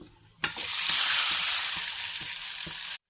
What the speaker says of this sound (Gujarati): એમાં આપણે 1 ચમચી જેટલી રાઈ નાખીશું અને થોડું અમથું જીરું એડ કરીશું અને 3 થી 4 મીઠા લીમડાના પાનને પણ એડ કરી દેશું